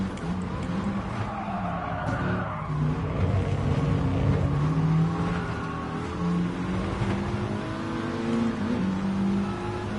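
Race cars roar around a track in a PS4 racing game, engines revving and shifting pitch with steady tire noise and occasional skids, loud and continuous throughout.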